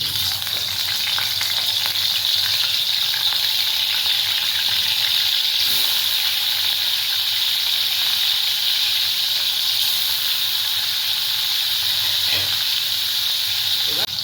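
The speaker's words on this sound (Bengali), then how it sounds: "এখানে আমাদের মাছটা ফ্রাই করা হয়ে গেছে।" Fish pieces rubbed with turmeric and salt sizzle in hot oil, a loud, steady crackling hiss with small pops that goes on without pause while someone talks faintly under it.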